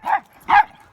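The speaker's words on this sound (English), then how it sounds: "excuse the noise, when Alfie sees the dog he doesn't like" Alfie, a dog out on a walk, lets out two sharp barks at another dog, close and loud with a short pause between them.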